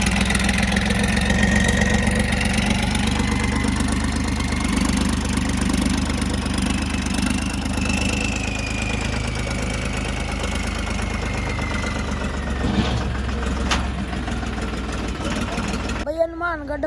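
A tractor engine runs at a tractor competition in Rajasthan, a loud, steady low-pitched idle with a mechanical knocking rumble that continues throughout, with some voices faintly in the background.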